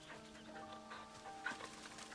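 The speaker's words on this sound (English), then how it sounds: "Lazy ass dog. Bad dog." A dog in the Final Fantasy XVI video game pants in soft rhythmic breaths, with faint whimpering and a brief louder yelp near the end under quiet game ambience.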